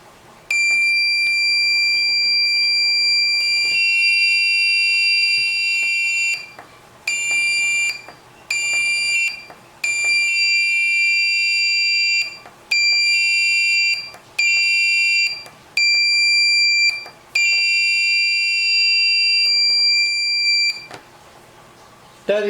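A piezo buzzer driven by an NE555 timer latch switch circuit, sounding a shrill steady tone that switches on and off in irregular bursts, first one long stretch, then several shorter ones, loud and close.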